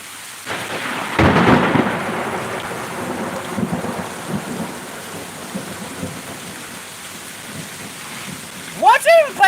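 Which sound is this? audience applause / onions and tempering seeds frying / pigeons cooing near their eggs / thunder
thunder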